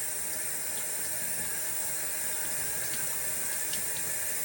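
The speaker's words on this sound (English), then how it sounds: "So keep your water on kind of low." Tap water runs at a low flow into a sink, a constant even hiss and trickle that stays close and steady with no breaks.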